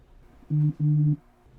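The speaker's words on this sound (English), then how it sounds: "My phone buzzed." Two short buzzes from a phone, the first brief and the second longer, sound close and moderately loud against a near-silent background.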